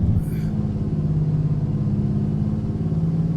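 A Mack RS700 truck engine in American Truck Simulator holds a steady, deep rumbling idle-to-rev drone, loud and continuous with little change in pitch across the few seconds.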